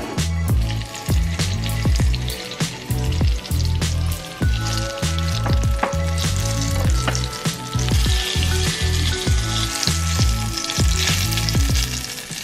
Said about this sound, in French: Maintenant on va faire frire tout ça.